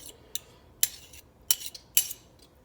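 A fork mashing avocado in a bowl, five or six short, bright metallic clicks and scrapes against the dish at an uneven pace, close and quiet with no speech.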